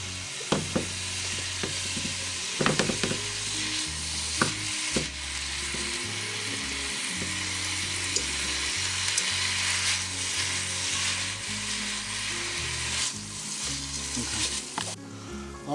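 Ground beef for taco lasagna sizzles and browns in a hot pan, a steady frying hiss throughout with a few scraping stirs and clanks of a utensil against the pan, and no one speaking.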